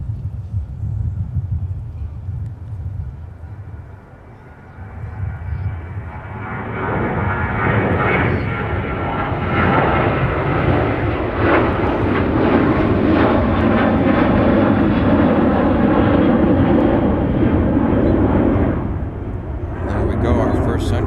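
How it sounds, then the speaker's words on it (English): A Sun Country airliner departs Minneapolis–St Paul airport on a flight to Baltimore, its jet engines building from a distant whine into a loud, sustained roar that rumbles steadily. "our first Sun Country departure we caught today. That's heading off to Baltimore"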